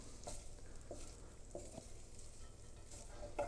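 Pancetta frying in a pan with chicken stock and wine for spaghetti Milanese, giving a steady low sizzle with a few soft scrapes of stirring, close and fairly quiet.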